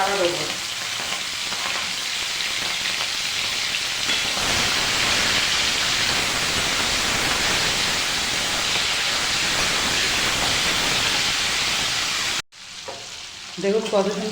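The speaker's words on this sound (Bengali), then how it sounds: "এবার আমি আগে থাকতে নুন হলুদ মাখা চিংড়ি মাছ ভেজে নেবো" Turmeric-and-salt-coated prawns frying in hot oil give a loud, steady, close sizzle that runs unbroken for about twelve seconds, then cuts off abruptly and is followed by a brief, quieter stretch.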